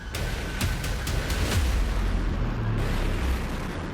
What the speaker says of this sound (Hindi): दोनों देश एक दूसरे पर मिसाइलों से हमला कर रहे हैं।